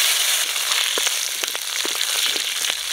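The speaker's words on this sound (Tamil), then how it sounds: "கருவேப்பிலை நல்லா வதங்கிடுச்சு, பச்சை மிளகாய் சேர்த்துக்கலாம்." Green chilies fry in hot oil with curry leaves for banana stem rasam, a steady close sizzle dotted with irregular small pops and crackles.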